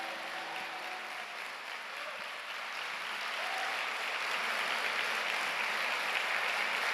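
Church congregation applauding together, a steady dense wash of many hands clapping that swells slightly louder toward the end, heard from within the room with no talking.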